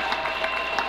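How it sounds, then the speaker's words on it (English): A crowd at a high school basketball game in Pflugerville gives a standing ovation, a brief burst of steady clapping heard from the stands. "they'll get a standing ovation from this crowd here in Pflugerville"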